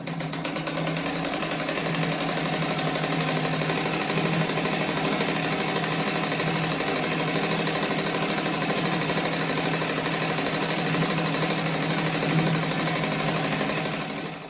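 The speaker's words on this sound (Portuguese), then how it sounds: "Daí agora eu vou passar a costura em toda a volta dele, pra depois recortar" A sewing machine runs steadily for the whole stretch, stitching around the edge of a small-scrap crazy patchwork rug with a close, even, fast mechanical whir and no pauses.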